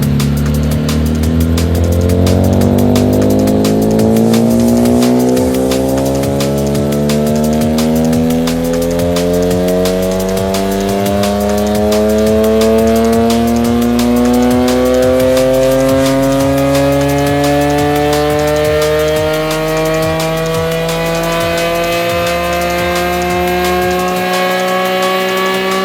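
A BMW E46 M3 with a Schrick cam sits on a dyno and is run up through the gears. Its straight-six howl climbs steadily in pitch in one long, loud pull, then cuts off near the end.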